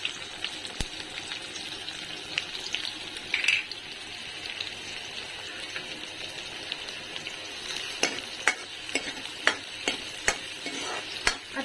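Chopped onion fries in hot oil with curry leaves in a pan, giving a steady close sizzle, with occasional sharp clinks and scrapes from stirring and no talking.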